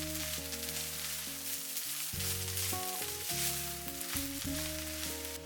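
Spring onion being stir-fried into tomato fried rice: a continuous soft sizzle of frying, fairly faint and steady, under background music with no talk.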